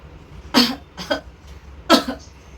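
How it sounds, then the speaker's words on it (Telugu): Three sharp coughs, close by: two in quick succession, then a single louder one after a short pause, with no talking. "దగ్గు వస్తుంది"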